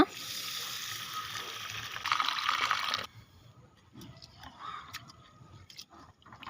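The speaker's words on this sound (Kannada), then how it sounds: "ಈಗ ಈ ಹೆಸರು ಬೇಳೆಯನ್ನು ಸ್ವಲ್ಪ ತೊಳೆದುಕೊಳ್ಳೋಣ" Moong dal lentils washed in water in a kitchen, a steady swishing and sloshing of grains and water for a few seconds, then quieter scattered splashes and clicks.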